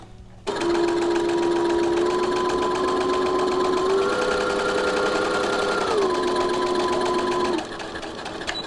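A sewing machine runs a continuous half-inch side seam on a fabric face mask, its steady whirring hum holding for about seven seconds and shifting pitch slightly partway through before stopping.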